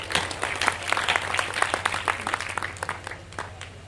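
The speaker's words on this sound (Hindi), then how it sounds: "मैं आमंत्रण देता हूँ भाई शुभम शुक्ला को जोरदार तालियां।" Applause from the audience at an all-India poetry gathering held at an inter college in Beniganj: dense, lively clapping from a crowd, fading gradually toward the end.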